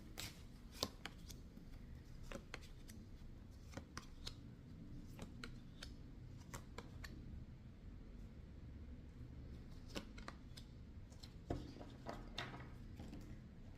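Tarot cards are laid out one by one on a smooth table, giving soft slaps and light sliding taps at an irregular, unhurried pace, close and quiet.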